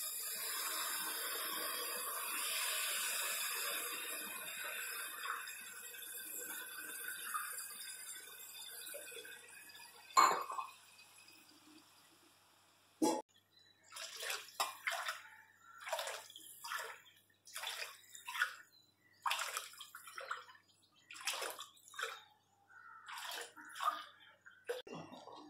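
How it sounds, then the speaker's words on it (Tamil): Water pours steadily into a pan for rava upma for several seconds, then stops, followed by scattered clinks and small splashes. "ஒரு கப் ரவைக்கு நாங்கள் மூணு டம்ளர் தண்ணி ஊற்றுவோங்க"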